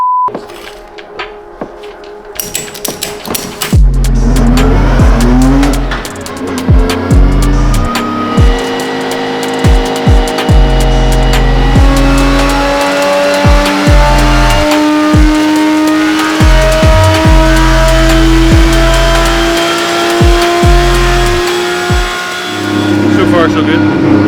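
A Toyota GT86 on a dyno roars loudly and close, its engine climbing through rising revs with sharp gear-like breaks and pops across about twenty seconds of sustained high-volume running.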